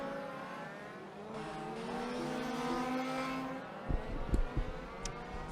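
Large-scale RC race cars whine through a chicane, engines buzzing and rising in pitch as they accelerate, with a few sharp knocks near the end.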